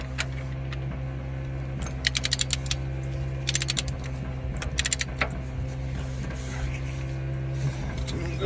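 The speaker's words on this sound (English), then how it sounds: "got the torque wrench set at 115" A torque wrench set to 115 ratchets on DT466E rod bearing caps in an engine bay, giving short bursts of rapid metallic clicks in three clusters over a low background hum, with someone talking at times.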